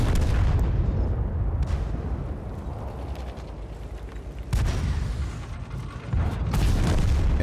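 Tank cannon fire in the World of Tanks game, with heavy booming shots over continuous loud engine and track rumble, one sharp blast standing out midway and another near the end.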